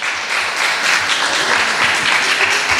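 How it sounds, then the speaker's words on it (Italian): Steady, dense applause from a university audience in Catanzaro welcoming a speaker, loud and continuous throughout with no pauses. "fatele un applauso"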